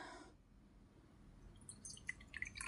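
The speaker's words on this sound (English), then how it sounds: "I'm going to pour a cup of tea to get the energy flowing." Tea is poured into a cup, a faint, soft trickle with light dripping that grows slightly louder toward the end.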